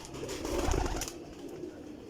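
Pigeons in a breeder's loft give a low, soft coo that swells for about a second, then fades into quieter murmuring and faint background noise.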